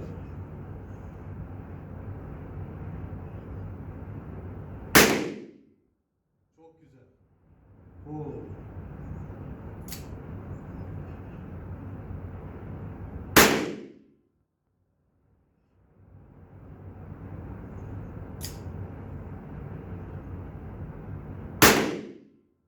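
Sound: SR38 revolver gunshots, Sarsılmaz

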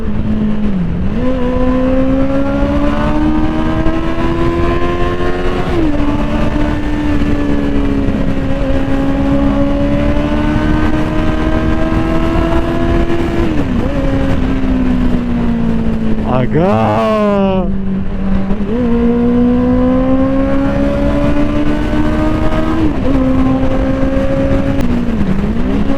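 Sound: motorcycle engine revving

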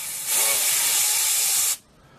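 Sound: compressed air from a compressor spinning rotor vanes

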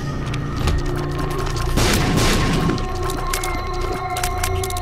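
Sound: explosions in video game Binding of Isaac Rebirth

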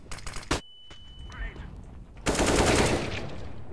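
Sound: machine gun fire in a shooter video game

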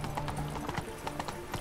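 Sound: horse hooves while riding in The Witcher 3 video game

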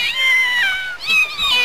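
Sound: kittens meowing

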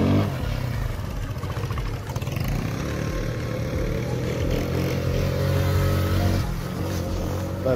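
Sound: Fiat Vespa Italian scooter engine

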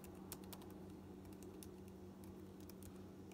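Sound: typing a command on a computer keyboard

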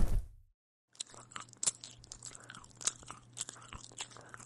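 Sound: eating Christmas cookies, crunching

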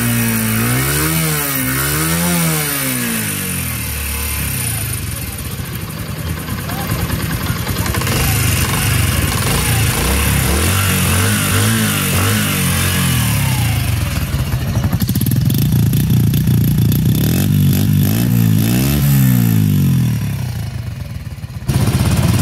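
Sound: Honda CD 70 2024 motorcycle engine running

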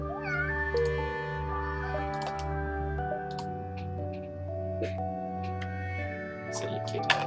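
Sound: pet cat meowing near keyboard

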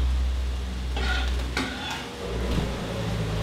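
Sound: ground turkey frying in a pan on the stove

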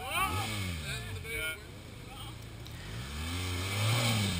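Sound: BMW 1200 GS Adventure motorcycle engine revving under throttle

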